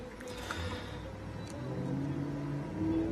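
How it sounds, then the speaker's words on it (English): Faint, steady rumble of cars passing at a distance outside, with engine whir slowly swelling toward the end. "I just hear cars outside"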